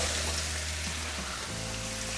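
Onions sizzle in hot bacon fat in a pan, a soft, even crackle and hiss that runs steadily with no talking.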